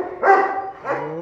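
A dog gives two short, close barks in quick succession, the second softer than the first, against a quiet background.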